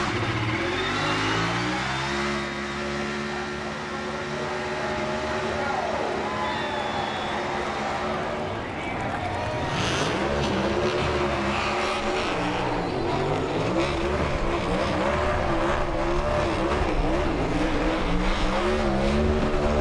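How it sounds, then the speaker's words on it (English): A NASCAR Cup Series car at Pocono does a burnout on the front straightaway, its engine roaring and revving loudly and continuously with tire noise mixed in, under crowd and track ambience. "He is putting the front brake into this thing so he can do a burnout down this front straightaway"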